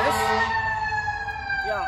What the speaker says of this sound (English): I think I'm going to wait for that fire truck to go by.